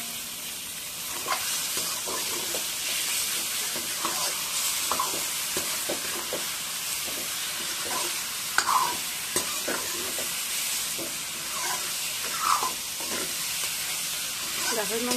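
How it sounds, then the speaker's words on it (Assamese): Pork pieces fry in a pan with a continuous close sizzle and steam hiss, while a spoon stirs them in irregular scraping strokes and occasional clacks against the metal. "গাহৰি মাংসখিনি কিন্তু ভালদৰে ভাজি ল'ব"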